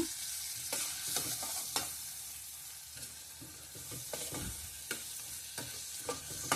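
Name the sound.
moong dal with spices being stirred and cooked in a pan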